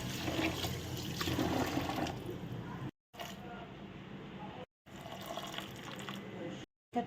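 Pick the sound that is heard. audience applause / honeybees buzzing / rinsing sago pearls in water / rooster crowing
rinsing sago pearls in water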